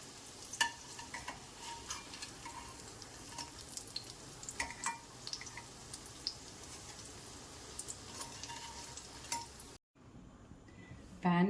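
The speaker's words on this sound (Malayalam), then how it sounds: "ഇനി കോളിഫ്ലവർ അതിനകത്തിട്ട് പൊരിച്ചെടുക്കാം." Cauliflower pieces frying in hot oil in a pan for gobi manchurian, a steady faint sizzle with occasional ticks and clinks, briefly cutting out near the end before a sharper burst.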